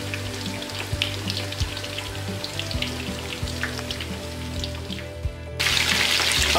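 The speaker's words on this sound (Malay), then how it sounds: "Kita goreng, kita tunggu." Chicken fries in oil with a dense, loud, crackling sizzle and steady low hum nearby, the popping growing brighter and harsher in the last second.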